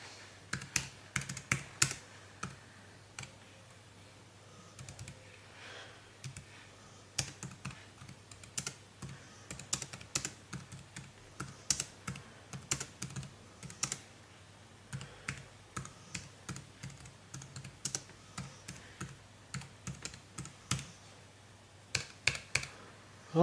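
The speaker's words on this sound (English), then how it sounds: "feels nice when I'm typing" Keys clack on a portable Bluetooth keyboard with an aircraft-grade aluminium body, irregular bursts of quick, crisp keystrokes with short pauses between, close and clear.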